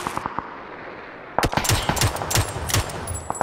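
Gunfire in the PUBG battle game: a few isolated shots early, then a dense burst of rapid automatic fire with sharp repeated cracks, loud and close, no talking.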